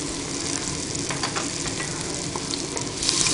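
Garlic and ginger fry in a hot pan with a dense, continuous sizzle and crackle, stirred now and then, loud and close throughout with no talking.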